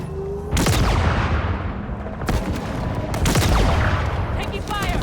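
Gunfire in the Halo Infinite video game comes as loud bursts of rapid shots that are close and overlapping, separated by brief lulls, with a voice speaking among the shooting.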